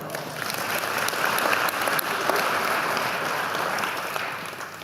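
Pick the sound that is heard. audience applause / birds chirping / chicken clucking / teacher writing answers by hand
audience applause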